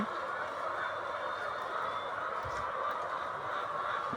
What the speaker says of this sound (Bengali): এই খামারে চার হাজার লেয়ার মুরগি রয়েছে